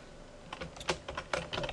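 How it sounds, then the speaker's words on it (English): Keystrokes on a computer keyboard while code is entered, a run of close, crisp clicks at an uneven rhythm, growing busier toward the end with no voices. "we're going to put some space and we're going to type"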